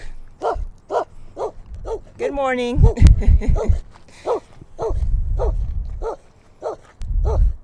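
A dog on a sunrise hiking trail gives repeated short barks at a steady rhythm, with a whining yip partway through and a person speaking over it.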